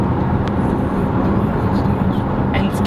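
2018 GMC Terrain with a 2.0 liter turbo engine and 9-speed transmission accelerating, a steady dense engine and road rumble heard loud from inside the cabin.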